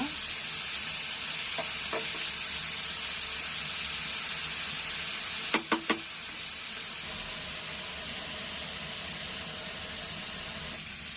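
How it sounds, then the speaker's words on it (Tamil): Sliced bitter melon sautés in oil in a pan for a Tamil-style poriyal, giving a continuous bright frying sizzle and hiss throughout, with a few sharp clinks of a utensil against the pan partway through. "நல்லா இது கொஞ்சம் எண்ணெய் போட்டு வதக்கிடலாங்க."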